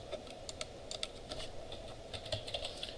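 Steady clicking of keys on a computer keyboard during a web database integration lecture, quick irregular taps close up over a low background hum, with no talking.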